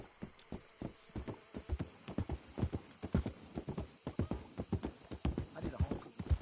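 Horse hooves clip-clop in a steady trotting rhythm on a dirt path in the Western open-world game Red Dead Redemption 2, with a brief whinny mixed in; the hoofbeats are close and clear, with no talking.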